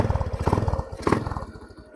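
A Honda CB125 motorcycle engine starts and runs with rapid, even pulses, close and fairly loud, and the revs swell briefly partway through before settling.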